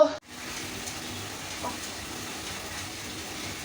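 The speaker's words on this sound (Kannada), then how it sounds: "ಹೆಂಗೋ ಬರೋ ಟೈಮಿಗೆ ಬಂತು ಮಳೆ" Steady rain falls in a continuous even hiss, with no individual drops standing out, heard alone at moderate level.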